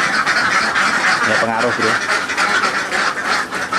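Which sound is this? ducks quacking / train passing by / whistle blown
ducks quacking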